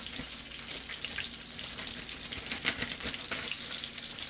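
Bacon sizzles and crackles in a hot pan, a steady frying hiss with scattered sharp pops, close by and without talking.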